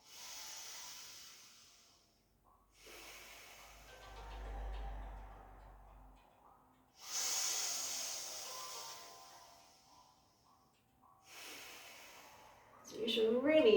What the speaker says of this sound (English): So breathing in and out through the nose.